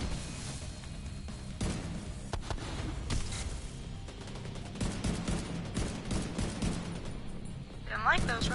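Gunfire in the video game Division 2 comes in bursts of rapid shots, with blasts and rattling fire that go on and off across the whole stretch, loud and close, while someone talks over it.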